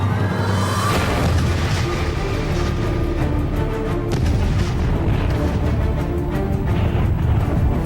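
A deep, rumbling boom-like roar from an early gunpowder weapon at the Battle of Crécy in 1346 fills the span, dense and sustained with crackling bursts and no talk.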